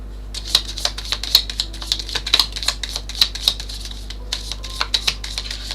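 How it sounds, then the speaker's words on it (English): Tarot cards are shuffled by hand in quick irregular bursts of crisp clicks and flutters, close and fairly loud over a low steady hum, with no talking. "These are so hard to shuffle, by the way."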